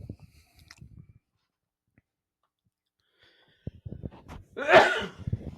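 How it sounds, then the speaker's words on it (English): A man sneezes once, loudly and up close, after a quiet stretch broken by faint breaths and small mouth noises. "I hate sneezing, man. I can't stand sneezing."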